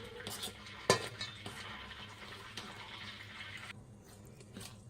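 Dry chakli flour mix is stirred with a spoon in a bowl, giving soft scraping and light clinks with one sharper knock near the start, close and quiet, fading toward the end.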